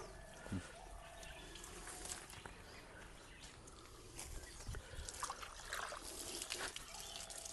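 Water trickles and dribbles softly on an outdoor vegetable plot during pumpkin planting, with faint, irregular splashes and small drips close by in a quiet setting.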